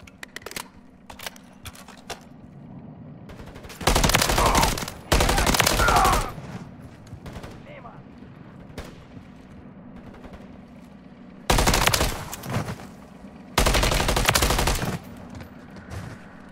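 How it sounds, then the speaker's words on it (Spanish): Bursts of automatic gunfire sound in the video game Call of Duty MW3 Zombies, four loud sustained volleys between quieter stretches with scattered clicks and distant shots. "¡Me disparan!"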